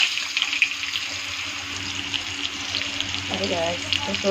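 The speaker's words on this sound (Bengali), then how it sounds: "একটু এটাকে গরম হওয়ার সাথে এর মধ্যে আমি কেটে রাখা আলুটা ছেড়ে দেবো।" Cut potatoes sizzle in hot oil with cumin seeds in a home kitchen, a steady hissing fry close to the pan. A voice talks briefly near the end.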